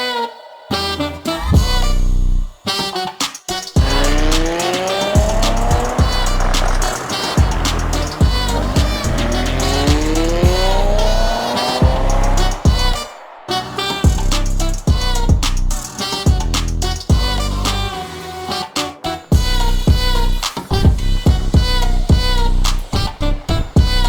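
A modified Honda Accord with a 3.0L V6 engine revs hard through rising gear sweeps, with sharp shifts and brief pauses, heard loud and close up from inside the vehicle.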